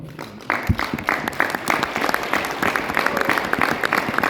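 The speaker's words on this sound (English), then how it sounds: "can we give Mr. Robert a big round of applause?" Audience applause for Mr. Robert at a Riway International training seminar in Poland: dense, steady clapping from a crowd starts abruptly after a brief quiet moment and keeps going evenly to the end.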